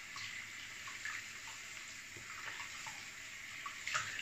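A bathroom tap runs steadily with warm water for a rinse during an electric razor test, giving a continuous close hiss of flowing water with a slight splash near the end.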